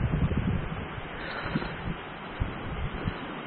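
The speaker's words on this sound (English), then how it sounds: "Still a little breezy." Gusty wind buffets the microphone with low rumbling thumps and a steady rush of breezy noise outdoors by the coast during an electric bike ride, no voices.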